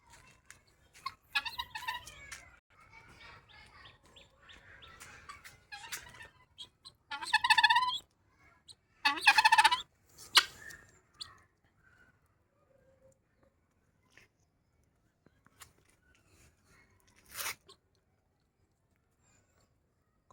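Pet partridges (titir) give lively calls in scattered bursts, the loudest clusters coming midway and others fainter and sparser, separated by stretches of near silence.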